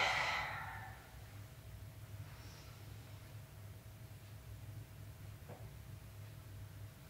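A deep sighing exhale during a slow yoga stretch opens the moment, fairly close and soft, then fades into a quiet steady room hum with no further clear breaths.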